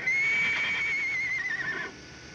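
A horse neighs in an old Three Stooges comedy film, one long, loud, quavering whinny that wavers in pitch before cutting off abruptly into quiet background hiss.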